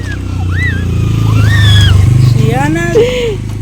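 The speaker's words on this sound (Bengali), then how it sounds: "এই বাইক আসছে" A nearby motorbike engine drones loudly and steadily, swelling slightly as it comes closer, while people talk over it.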